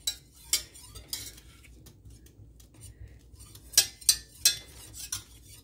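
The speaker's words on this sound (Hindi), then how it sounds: "बिल्कुल कॉन्टिन्यूसली आपने इनको विस्क करना है" Butter and flour whisked together in a pan, sharp metallic scrapes and clinks of the whisk against the pan coming in uneven bursts, with a few louder strokes toward the end over a low background hum.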